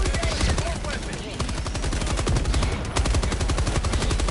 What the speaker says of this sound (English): Apparently I can't aim with the machine gun.